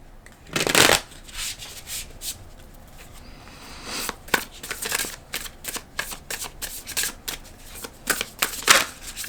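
Tarot cards are shuffled up close in a quiet room: a loud riffle burst at the start, then a run of softer flicks and slides, with another sharp riffle near the end.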